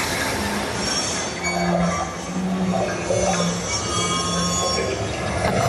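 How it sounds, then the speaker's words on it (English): A dense, computer-mixed collage of train station noise: squealing train wheels, rumbling carriages and hissing ambience layered together, steady and fairly loud, with faint voices underneath. "A collage of station noise mixed on a computer"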